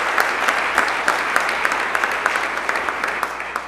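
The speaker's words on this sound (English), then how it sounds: "here's the guy who deserves a big round of applause for all his work" Steady applause from an audience at an outdoor civic welcome for Irish Fest delegations in Milwaukee, a dense wash of clapping with sharper individual claps popping through and a little voice underneath.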